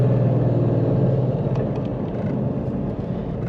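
A Ford Mustang GT with Corsa headers, X-pipe, axle-back exhaust and stock resonators holds a loud, deep, steady rumble close by, with a slight change in tone partway through.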